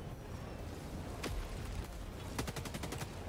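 Gunfire in the video game HellDivers 2 aimed at a ship: a single sharp shot near the middle, then a rapid burst of several close, loud shots toward the end over steady background noise.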